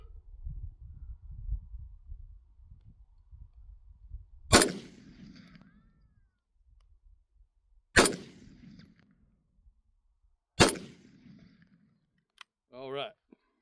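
Three sharp, loud AR-platform rifle shots ring out on a marksmanship range, spaced a few seconds apart, each with a short echoing tail, over low background rumble and a brief murmur near the end.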